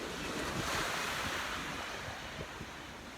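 Waves wash onto a beach in a steady broadband roar, with wind buffeting the microphone throughout and no voices.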